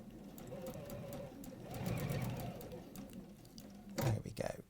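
Sewing machine stitching a seam within the seam allowance, a fast, rapid running patter at moderate level, with people talking over it.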